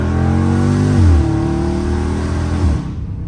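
A loud, throaty Dodge Challenger or Charger Scat Pack muscle car engine revs up, holds a deep rumble, then dips briefly as the pitch shifts, close and alone.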